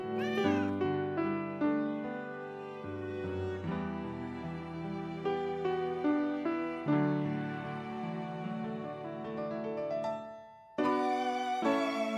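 Kittens meow in the video game Final Fantasy VII Rebirth, a steady run of high, repeated mewing calls over a dense musical backdrop, loud throughout with a short dip before the end.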